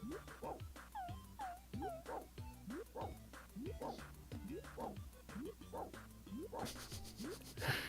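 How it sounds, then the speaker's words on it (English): Cartoonish dog barks and yips from the Beethoven SNES video game repeat in a quick, steady rhythm, layered over looping game music. "There's a giant dog just jumping and barking"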